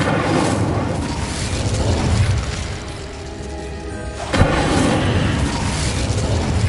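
An Incendio fire spell fired by the player in Hogwarts Legacy on PS5, a loud rushing blast of flame that swells, dips, then bursts again with a sharp pop, filling the whole moment.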